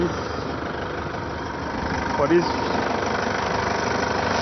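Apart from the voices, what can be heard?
Toyota Hilux engine idling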